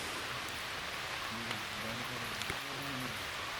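Light drizzle in a forest near Periyar in the late afternoon patters softly and steadily on leaves, a faint even wash with a few scattered drips and quiet background sounds.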